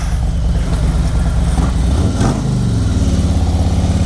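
A 2018 Road Glide Ultra motorcycle engine runs close by, a loud, steady, low-pitched throbbing idle with a brief rise in revs partway through.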